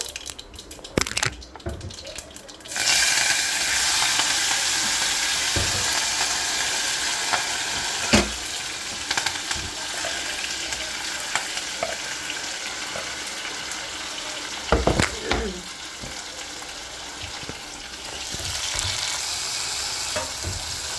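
Vegetables hit hot tempering oil for semiya upma, starting with a few clatters and then settling into a steady, close sizzle with occasional stirring knocks and scrapes throughout, with no talking.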